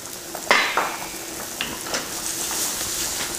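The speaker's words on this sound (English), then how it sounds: "as we're sauteing the mushrooms, it's lifting the flour right off the bottom of the pan" Mushrooms sauté in olive oil in a pan, a soft steady sizzle with occasional clinks and scrapes of a utensil stirring and tossing them, close and fairly quiet.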